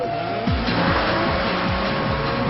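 Street race cars tearing along in a Fast and the Furious race against Johnny: loud revving engines with repeated gear-shift sweeps and squealing tires, close and continuous, with no voices.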